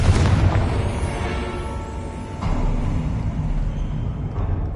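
A deep, rumbling blast from the Confringo fire curse in Hogwarts Legacy booms loud and close, then rolls into a sustained low roar with a second surge partway through, no voices over it.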